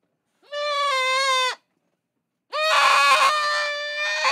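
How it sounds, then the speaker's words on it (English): A goat brought indoors lets out two loud, close, human-like screaming bleats, the first about a second long and the second longer and more ragged, separated by a short silence. "My wife brought the goat in."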